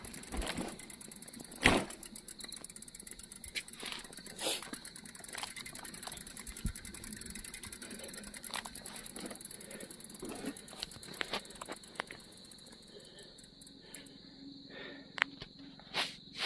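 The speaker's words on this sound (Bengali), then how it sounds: "সাইকেলে করে এখন মালগুলো নিয়ে যাচ্ছি।" A bicycle ridden along a road carrying goods for a tea shop, with steady ticking and rattling mechanical chatter and scattered clunks throughout, fairly close.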